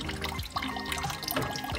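Water gushes and splashes from a loosened coolant hose at an IMT tractor's water pump during a repair, a continuous close-up pouring with bubbling, uneven spatter.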